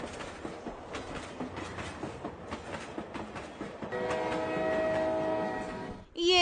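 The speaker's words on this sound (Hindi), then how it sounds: "ये क्या, ट्रेन तो चली गई" A train pulls away from a nearby station, rhythmic clickety-clack of wheels on rails rolling steadily, then a loud sustained horn blast sounds up close near the end.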